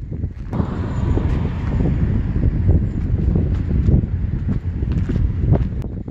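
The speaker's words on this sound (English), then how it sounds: "It's kind of windy." Steady wind buffeting outdoors at a bus stop on Munjin Road, a constant low rumbling roar with gusty fluctuations and faint rustling throughout, no talking.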